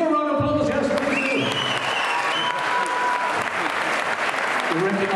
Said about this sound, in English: give her a round of applause, yes, please